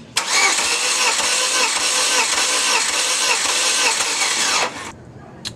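An engine cranks over steadily on the starter during a wet compression test on cylinder two, a loud, continuous rhythmic churning for about four and a half seconds that stops abruptly, then a brief burst after.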